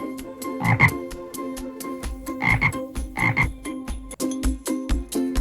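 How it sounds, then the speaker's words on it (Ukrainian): A frog croaks in a steady run of several loud, close, rasping calls with short gaps between them, heard alone with no voices. "Жаба каже ква, ква."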